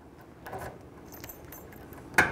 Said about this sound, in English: All right, I got three keys here.